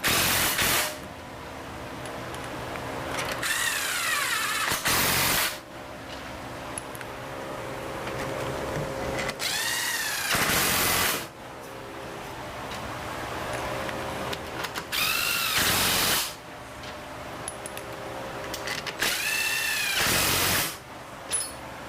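A power tool drives bolts into a 5R55S transmission case in four loud, whirring bursts spaced about five seconds apart, each rising and falling in pitch, with quieter handling noise between them and no talking.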